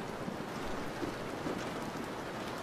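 Steady rain from a storm patters evenly and fairly softly on surfaces, with no voices.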